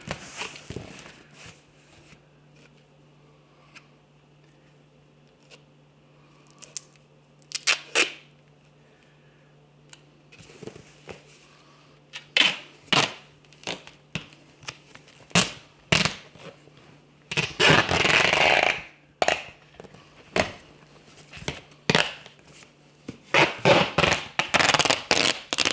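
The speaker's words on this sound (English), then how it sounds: "I'm going to do a couple times around with the duct tape." Duct tape is pulled and wrapped around a homemade archery target in sharp ripping bursts, sparse at first and then coming in rapid clusters, with rustling and handling noises between them over a faint hum.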